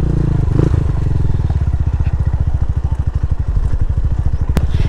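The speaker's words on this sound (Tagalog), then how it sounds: "Tsaka pagulungin nyo lang yung motor." A motorcycle rolls slowly down a rough, rocky mountain road toward a river, engine idling in a steady low putter with rattles and clatter from the bumpy surface, close and continuous.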